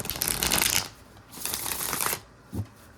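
A deck of tarot cards is shuffled by hand in close, dense riffling bursts that pause briefly between them, followed by a single soft tap at the end.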